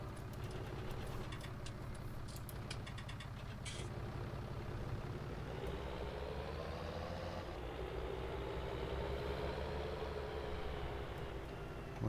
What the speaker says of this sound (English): I like the sound on this tractor, it does sound nice.